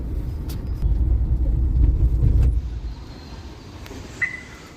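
A car engine rumbles low and close while the car is driven and parked, then cuts out, leaving quiet surroundings and a brief high tone near the end.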